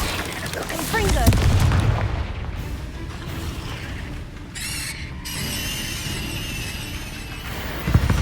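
Confringo fire spells burst in the Hogwarts Legacy video game, with booming blasts and crackling magic over continuous mechanical battle noise and game sound effects, a character shouting spell names between hits.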